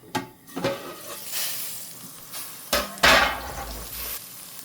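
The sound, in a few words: Narsinga masala frying and being stirred in a pan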